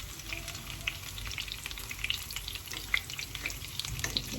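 Small homemade chicken nuggets fry in a pan of hot oil, crackling with scattered bright pops over a continuous soft sizzle, close up and with no voices.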